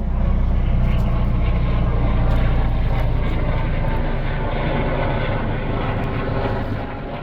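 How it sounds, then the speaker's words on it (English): Loud, steady aircraft engine drone with a low rotor-like throb, close overhead, fading slightly toward the end. "until the helicopter came over"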